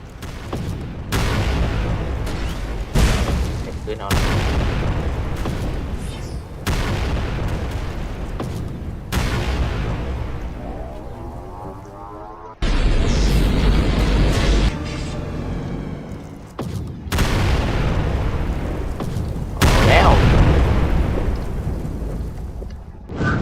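Laser shots fire in the Roblox game Titan Battleground as a series of loud, roaring blasts, each lasting a few seconds and cutting off abruptly before the next begins, booming and explosive in character.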